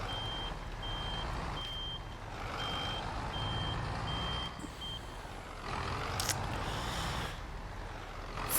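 A truck in Farming Simulator 22 reverses with a repeating electronic backup beep over a low engine rumble, steady and fairly close, with no talking.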